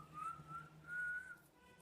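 A person whistles a simple tune indoors at home in two drawn-out phrases, faint and alone with no talking.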